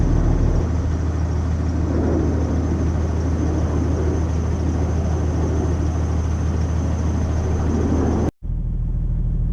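A 6.7 Cummins diesel truck engine idles steadily up close, its deep rumble carrying a constant whir from a noisy belt tensioner, with a brief cutout near the end.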